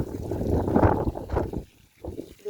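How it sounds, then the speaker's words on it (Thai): Strong wind blows through a mulberry orchard on a hot day, a close, gusty rushing roar that buffets the microphone and then briefly drops away before surging again. "ดูลมแรงมากเลยดูจากใบหม่อนกิ่งหม่อนที่โดนลมพัดเนาะ"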